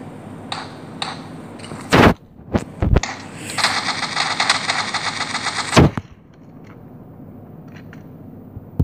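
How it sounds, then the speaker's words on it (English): A suppressed Tommy gun firing in PUBG Mobile, a few sharp reports and then a sustained burst of muffled automatic fire with metallic clinks, close and loud, before things go quiet with no talk. "The Tommy gun is an insane World War II gun"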